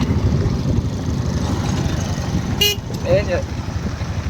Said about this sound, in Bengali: আর আমার গাড়ি চলছে টুকটুক করে।